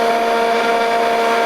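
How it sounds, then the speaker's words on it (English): A vintage RC boat's small electric motor spins at high speed, giving a loud, steady, close whine with a sustained buzzing tone. "The motor doesn't spin as quick as the old one, but it's not far off"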